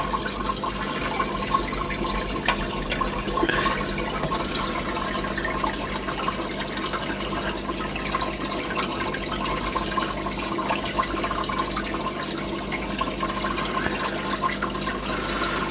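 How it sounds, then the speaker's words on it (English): Water pours steadily and continuously into a koi fish tank, a constant splashing rush with no pauses or talking. "I've got a bowl of water at the tank, mixed it all up and then spread it in the tank."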